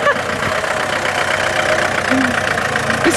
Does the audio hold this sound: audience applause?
no